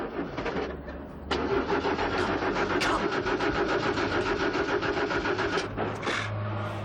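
A car engine cranks repeatedly without catching, its flooded motor churning in a steady rhythmic grind for several seconds before falling quieter, close and loud with no talk over it.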